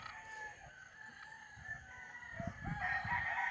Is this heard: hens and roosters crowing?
yes